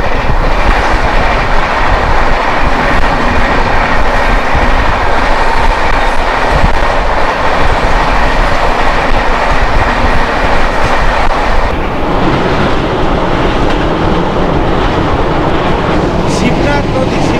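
Shalimar Porbandar Superfast Express, train number 12906, passing close by on the rails in India: loud, continuous rumble and wheel clatter throughout, with the tone shifting and thinning somewhat near the end.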